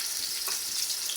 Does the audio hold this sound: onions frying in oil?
yes